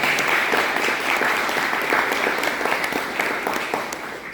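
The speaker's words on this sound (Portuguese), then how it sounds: "Eu queria palmas para todos vocês" An audience at a motivational talk on success mindset claps loudly and continuously, a dense crowd of hands applauding for a few seconds without speech.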